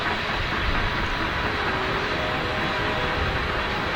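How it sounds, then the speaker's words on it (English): A train rumbles past at a steady, continuous roar with a low rolling drone, heard outdoors from a hilltop near a town, loud and unbroken throughout. "I sure like that train."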